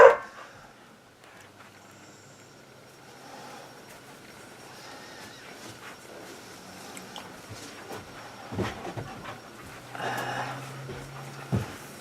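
A puppy barks and yips indoors in short, scattered bursts, faint at first and growing more frequent and louder toward the end against a quiet room.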